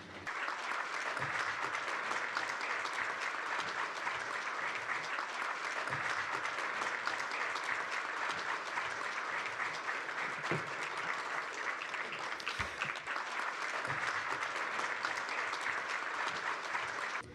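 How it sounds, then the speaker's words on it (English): A large audience at the Yomiuri International Economic Society applauds to welcome Prime Minister Suga on stage, continuous even clapping from a hall full of people, steady and undiminished for the whole stretch. "Please join me in a big round of applause to Prime Minister Suga."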